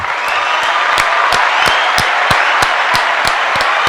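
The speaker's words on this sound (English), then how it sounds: "Let's clap it up again for that" A small podcast audience claps, steady and fairly loud near the microphone, with a rhythm of distinct claps standing out over a dense wash of hand noise.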